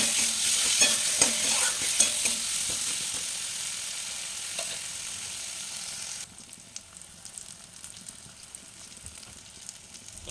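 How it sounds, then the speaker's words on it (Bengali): Snakehead fish curry masala being sautéed in a pan, a busy sizzle with stirring scrapes that drops abruptly to a quieter simmering fry partway through, no voices. "দিয়ে আবারও ভালো করে কষাবো এটা ভালো করে কষিয়ে কষিয়ে রান্না করতে হবে"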